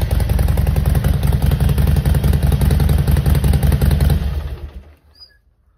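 A Harley-Davidson motorcycle engine with a new aftermarket exhaust rumbles loudly and steadily at close range for about four seconds, then is shut off and fades into near silence.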